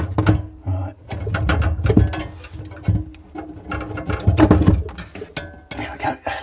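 Spanner clicking and ratcheting while tightening a tap pipe fitting during a bathroom refresh, an irregular run of close metallic taps and turns, with a voice speaking over part of it.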